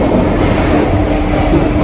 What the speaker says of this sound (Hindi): मेट्रो की आवाज़ सुन रहे हैं बहुत लाउड है इधर